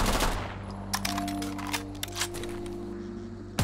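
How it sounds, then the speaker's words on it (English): A modded MG34 German recoil-operated, air-cooled machine gun fires in Fallout 4, loud close bursts of rapid cracking shots with ringing tails, fading to a humming tail at the end. "This mod adds the MG34, a German recoil-operated, air-cooled general-purpose machine gun"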